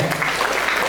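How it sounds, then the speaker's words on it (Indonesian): School orientation audience applause during a parenting talk show, a steady dense wash of clapping filling the entire short moment. "Tepuk tangan untuk ABS."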